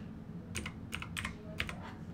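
Quiet typing on a computer keyboard: a few short bursts of key clicks in an uneven rhythm, close and faint over a low background hum.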